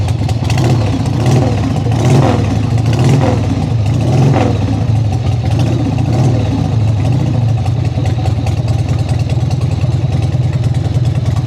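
A motorcycle engine idles steadily in a motorcycle shop after a battery swap, a loud, even low rumble running throughout with a few light blips of throttle early on.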